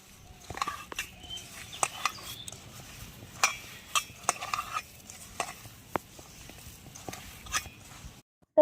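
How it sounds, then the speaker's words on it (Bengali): Chhana (milk curd) mixed with sugar and kneaded by hand, with soft, close-up squelching presses and scattered light clicks in an irregular rhythm. "হাত দিয়ে ভালো করে চেপে চেপে মেখে নেব।"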